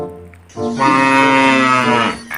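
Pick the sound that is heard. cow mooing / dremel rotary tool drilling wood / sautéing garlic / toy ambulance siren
cow mooing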